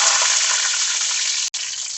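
Cumin seeds and garlic sizzle in hot oil in a pan, a steady loud frying hiss that lasts throughout, with one brief break near the end.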